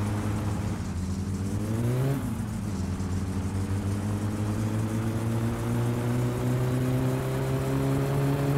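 Satsuma car engine in My Summer Car, fitted with a new turbo, revving at high rpm in a steady loud drone, briefly dipping and climbing again before holding a high whine, no talk over it.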